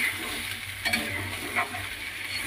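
Water goes into sizzling masala for a bitter gourd curry, giving a continuous close frying hiss with two short surges of spitting as the liquid hits the hot pan.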